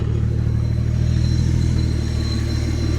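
An old Toyota engine idling a little low with a suspected intake vacuum leak, a loud, steady, close mechanical drone with a deep rhythmic throb and no talking over it.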